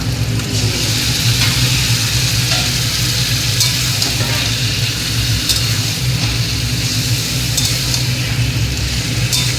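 Marinated mutton sizzling as it's added to a pan of fried onion and garlic for mutton curry, a steady loud crackle and hiss running throughout with a low rumble underneath.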